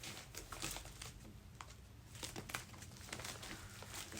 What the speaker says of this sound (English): And on top of plastic protector, there is another very light plastic, overprotected, I would say.